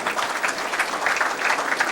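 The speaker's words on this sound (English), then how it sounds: "You're going to hear some hooping and hollering here." A hometown crowd at a 1997 women's bowling championship claps and cheers for a bowler, steady applause with scattered whoops at moderate distance.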